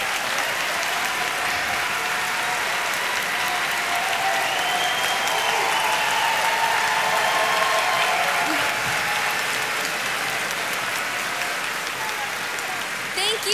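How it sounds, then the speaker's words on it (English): An audience at a school district convocation applauds the yard crews and maintenance staff, a long, even wash of clapping from a large crowd that holds steady throughout. "stand up and allow us to applaud you"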